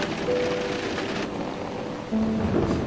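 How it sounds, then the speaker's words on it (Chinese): Steady rain hisses with a low rumble of thunder, and a faint tonal hum drifts over it. "下雨了"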